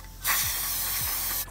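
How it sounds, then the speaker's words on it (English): Carb cleaner sprayed from an aerosol can onto parts during a big turbo install, one steady close hiss that starts abruptly and runs for over a second before cutting off. "So some carb cleaner. I'm gonna go ahead and just"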